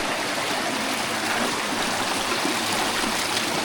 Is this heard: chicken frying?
no